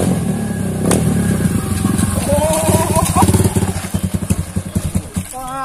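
A KLX motorcycle engine runs close by, its pitch climbing as it revs and then breaking into a rapid pulsing beat, with voices talking over it.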